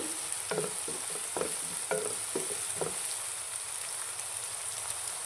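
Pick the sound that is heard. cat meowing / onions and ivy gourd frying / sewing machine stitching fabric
onions and ivy gourd frying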